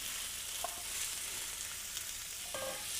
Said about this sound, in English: And while that's browning on one side, and you can hear it sizzling.